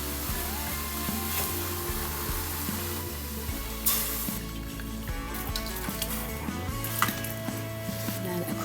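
A steady sizzle runs under repeated scraping as tomato paste is scraped up from the bottom of a hot pan after water is added, for a creamy tomato basil soup, with occasional spoon knocks against the pan.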